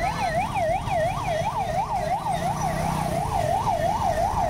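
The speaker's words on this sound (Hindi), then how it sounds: "एम्बुलेंस जा रही है" An ambulance siren passes along a city street in Morbi, Gujarat, India, wailing up and down in a steady, fairly loud cycle over a low rumble of traffic.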